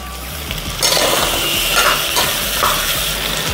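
Onions, green peas and cashews fry in a pan for coconut milk pulao, with a loud, close, continuous sizzling hiss and stirring scrapes that swell after the first second.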